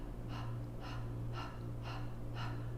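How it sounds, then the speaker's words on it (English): Five sharp, forceful exhalations through the nose during kundalini yoga breathing, evenly spaced and close, with no talk over them. "Exhale."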